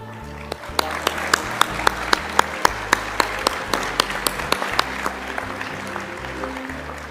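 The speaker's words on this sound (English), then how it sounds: "Let's give all of our nominees a huge round of applause" An awards-ceremony audience applauds steadily, with loud, rhythmic clapping filling a large hall and music playing underneath.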